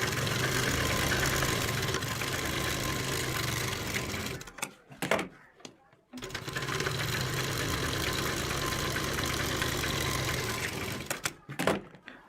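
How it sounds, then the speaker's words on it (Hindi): A sewing machine stitching a double seam on a salwar runs loud and steady in a fast mechanical whir, stops briefly with a few clicks, then resumes and stops again at the end. "तो जैसे कि मैं आपको सिलाई लगा कर दिखाता हूँ।"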